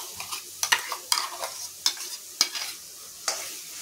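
Spice paste frying with chickpeas and potato for chole, stirred with a spoon: a soft sizzle runs beneath irregular scraping clinks and stirring knocks, close up, with no voices.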